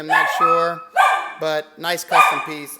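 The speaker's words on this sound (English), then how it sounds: "Yep, there goes my dog barking." A dog barks in the background in several sharp, separate yelps and bow-wows that alternate with someone talking nearby.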